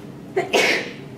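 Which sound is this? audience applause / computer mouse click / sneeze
sneeze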